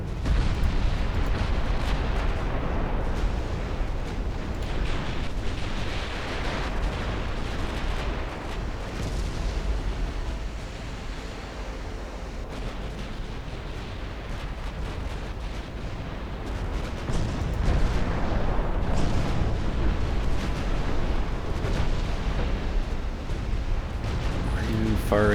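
Naval guns fire in the warship battle game Ultimate Admiral Dreadnoughts, producing a dense, continuous rumble of heavy booms and blasts that rises and falls in intensity, with a voice speaking at times.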